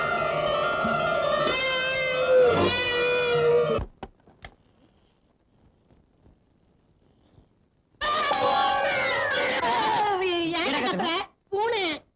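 A cat meows during a Tamil comedy scene set inside a house: two loud, drawn-out wailing meows separated by a few seconds of near silence, the second ending in short sharp cries.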